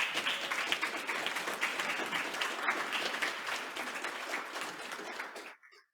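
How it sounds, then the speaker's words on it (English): Audience applause at a school board meeting, steady dense clapping filling the room for about five seconds before cutting off abruptly. "Let's give him a round of applause."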